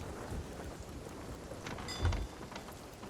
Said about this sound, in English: Alright, we're deep in the heart of the storm.